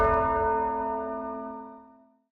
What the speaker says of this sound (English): And this is the Division Bell.